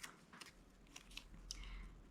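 Scissors snip through small paper scraps at a planner-decorating desk, a few quiet, brief cuts close by against a low background hum.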